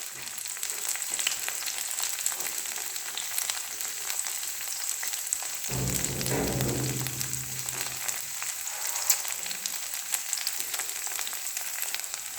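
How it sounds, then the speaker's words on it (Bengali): Capsicum sizzles steadily in a hot pan for chicken fried rice, a continuous crackling hiss, with a brief stir or toss about midway that briefly thickens the frying sound. No voices are present. "দেখো ক্যাপসিকামগুলো ভাজা হচ্ছে"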